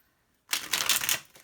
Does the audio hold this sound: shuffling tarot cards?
yes